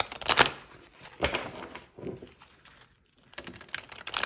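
Several quick bursts of riffling cards close by, each a crisp flutter separated by short pauses, with no voices.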